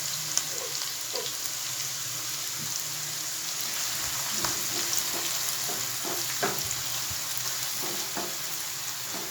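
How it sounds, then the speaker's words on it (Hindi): Onions frying in oil in a pan for a chicken roast make a continuous, close, rain-like hiss and crackle, with a few soft stirring knocks and no voices. "अब इसको 1 मिनट हल्का सा मैंने फ्राई किया प्याज़ों को"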